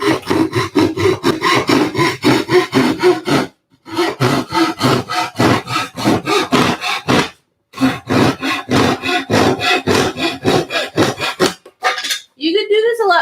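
Wood cut with a hand saw while building a loom: loud, close, rhythmic rasping strokes in three long bursts separated by brief pauses, with a few scraping sounds at the end.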